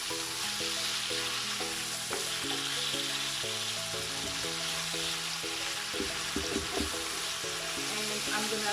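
Onions frying in a pan with a pinch of salt, a steady soft sizzle held under music with a melodic pattern, fairly close and unbroken.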